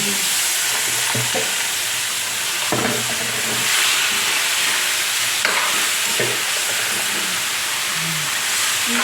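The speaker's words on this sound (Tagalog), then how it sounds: "Ngayon po, ilalagay ko na po itong karne." Meat fries in a pan with a steady, close hiss and sizzle, and scattered scrapes and clinks as it is stirred throughout.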